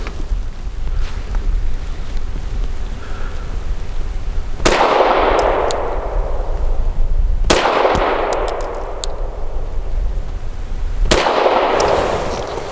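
Three loud, sharp gunshots from a Tisas PX-9 Gen 3 pistol firing aluminum-case ammunition, spaced a few seconds apart, each with a ringing outdoor decay over steady background noise.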